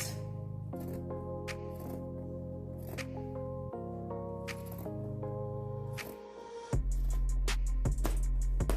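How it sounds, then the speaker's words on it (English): Scissors cut through denim jeans along a drawn line, a series of crisp snips and blade scrapes close by over a steady low hum, with a louder rustle near the end. "I am simply going to take my scissors and follow this line that I drew out"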